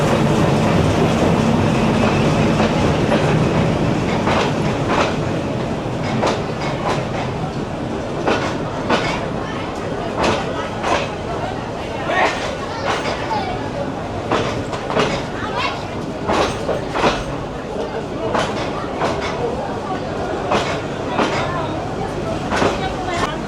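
A diesel local train in Bangladesh runs along the track, with a steady rumble overlaid by a regular clickety-clack of wheels over rail joints, heard from inside the carriage and continuing throughout.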